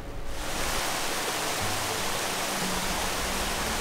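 A mountain stream rushes steadily over rock where it has carved a pool, a dense, constant roar close by with no pauses.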